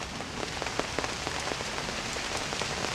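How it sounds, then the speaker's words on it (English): Steady, dense patter of rain drumming on a big umbrella overhead, close and continuous with scattered louder drops, no voices. "Can you hear the rain? We're under a big umbrella here."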